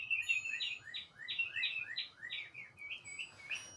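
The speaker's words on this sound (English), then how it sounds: "the birds are chirping" Small birds chirp outdoors on a nice day, a rapid series of bright, repeated tweets in quick rhythm, fairly close and clear over a quiet background.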